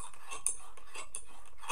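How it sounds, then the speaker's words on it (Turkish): A spoon stirs instant coffee in hot water, clinking against the sides of a cup in a quick, close, rhythmic series of bright taps with no voices. "Bayağı bir karıştırıp erittim ben bunu."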